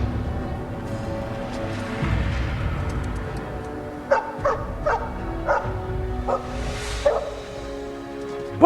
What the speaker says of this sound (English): Is that my dog?